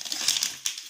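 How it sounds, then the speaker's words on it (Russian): A plastic packet of raspberry-flavoured no-cook instant oatmeal crinkles and rustles steadily for about a second, close up, with a sharper crackle near the end. "Вот такой пакет. Овсяная каша без варки."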